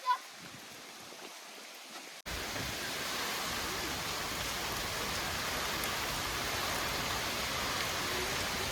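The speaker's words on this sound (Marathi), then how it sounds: "होय पाऊस आला की पाऊस आली" Steady hiss of rain falling on surfaces on a farm starts abruptly after a short quieter stretch, then continues evenly and fairly close.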